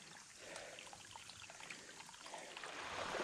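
A creek in a remote Virginia valley, once a stocked trout stream, gives a steady, soft trickling rush of flowing water, heard at a distance and rising slightly toward the end, with no talking.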